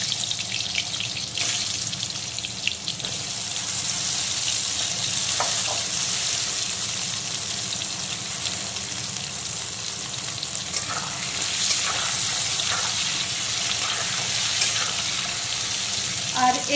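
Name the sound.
turmeric-coated potatoes frying in hot mustard oil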